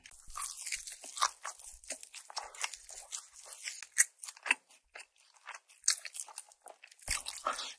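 Close, crisp crunching and chewing of Korean fried chicken with a shattering crispy batter, repeated irregular crackly bites and chews over about eight seconds with no talk.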